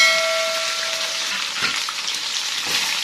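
Oil sizzles and crackles steadily as onion, ginger and chilli roast, with a couple of brief stirring scrapes and a faint tone early on.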